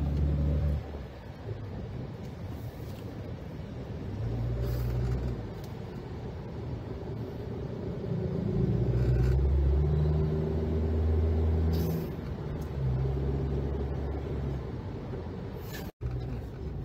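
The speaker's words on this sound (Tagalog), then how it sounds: "maririnig natin yung makina niya, mag-iingay siya ng onte" A 2021 Toyota Rush 1.5 G automatic's engine hums steadily from inside the cabin, its low rumble swelling louder midway as the vehicle accelerates, then easing back down.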